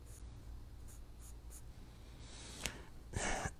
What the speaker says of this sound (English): So when you're drawing with charcoal